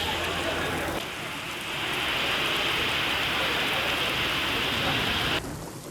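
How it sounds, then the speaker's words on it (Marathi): Monsoon rain in Navi Mumbai around Kharghar, Belapur and Vashi: a steady, dense hiss of rainfall on surfaces, even and loud for several seconds before it eases at the end. "नवी मुंबईत पावसाला सुरुवात झाली आहे खारघर बेलापूर वाशी या भागामध्ये पाऊस सुरू झालाय"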